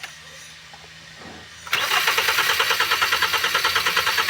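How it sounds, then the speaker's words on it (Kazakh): Kia Optima engine with a rough-running, misfiring fault cranks briefly and fires into a loud, pulsing idle that stays close and steady. "Ой, мотор кетіп қалған жоқ қой."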